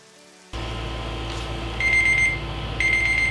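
An electronic alarm clock beeps in two bright, repeated bursts over a steady low background hum that starts abruptly; the beeping is loud and close.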